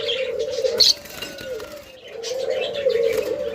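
Doves at a bird farm give a steady, low, throaty cooing that runs almost continuously, close and fairly loud, with a few brief chirps and light rustling over it.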